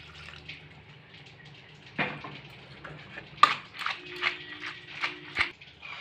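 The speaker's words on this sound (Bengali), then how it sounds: "এবার আমি একটু ঠান্ডা জলে ম্যাকারনিটাকে ধুয়ে নিলাম," Boiled macaroni being rinsed under cold tap water in a kitchen, with running water and soft splashes alongside several close clatters and knocks, and no talk.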